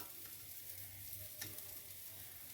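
Dosa batter sizzles steadily on a hot pan for a vegetable dosa, a soft continuous frying hiss with a faint low hum beneath and one brief brighter crackle midway, no voices.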